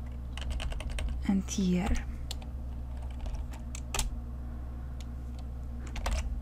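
Keys clatter on a computer keyboard in quick, uneven bursts, fairly close, while a voice talks briefly over the typing partway through.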